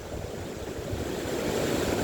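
Rushing water from a Yosemite waterfall, foaming white below, gives a steady, loud broadband roar that swells slightly toward the end, with no voices.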